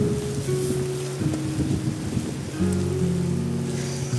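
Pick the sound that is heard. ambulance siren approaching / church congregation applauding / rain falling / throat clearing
rain falling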